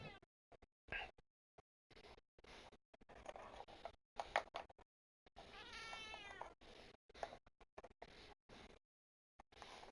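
A cat meows in short, scattered bursts broken by silences, one longer, drawn-out meow in the middle, fairly close and quiet overall with no talking.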